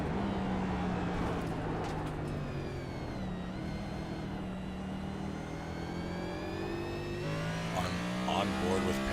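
Race car engine note holding steady at speed with the high whine of worn tires screeching, from a sim-racing series event at Sonoma; the engine drones continuously and loudly throughout, with a commentator talking over it.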